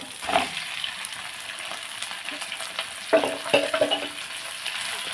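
Browned onions sizzle in a pan as chicken is added, a steady close frying hiss broken by a few clattering stirs and metallic clinks, with no voices.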